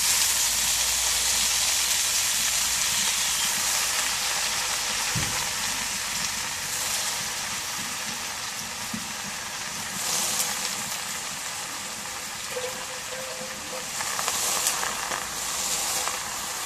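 Red amaranth leaves sizzling in a hot pan after garlic, onion and chili, a dense continuous hiss with only a few faint clinks of stirring over the long stretch.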